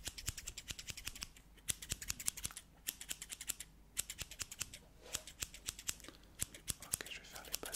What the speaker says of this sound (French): J'ai 2 ciseaux, donc un gros ciseau pour faire les finitions, un petit ciseau pour faire les bases.